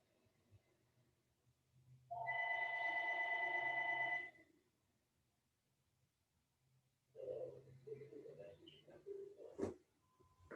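Mobile phone ringing during a yoga session: a single sustained electronic tone burst of about two seconds, fairly clear, followed later by soft muffled voice and rustling handling noises.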